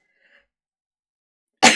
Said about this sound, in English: Excuse me, I'm going to sneeze now.